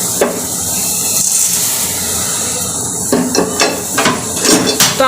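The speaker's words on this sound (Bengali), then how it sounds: "দেখুন আমার জল ভালোভাবে ফুটেছে, এখন আমি নুডলসগুলো দিয়ে দেব।" Kokola stick noodles go into boiling water, giving a continuous bubbling hiss with a few soft splashes and knocks from the pot close by.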